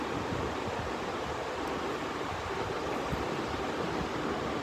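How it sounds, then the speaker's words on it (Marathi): Onion sautéing in a pan with curry leaves after a tempering, giving a continuous soft sizzle and hiss that holds steady and fairly quiet throughout, with no talking. "कांदा चांगला परतून घ्यायचा थोडा मऊ होईपर्यंत."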